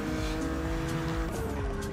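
Car tyres squeal and skid through a tight corner in The Crew Motorfest racing game, a loud continuous screech over engine drone lasting under two seconds.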